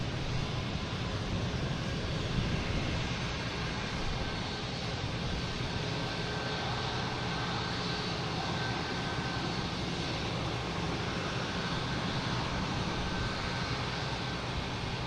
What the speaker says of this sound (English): There's Icelandair finally getting to the gate.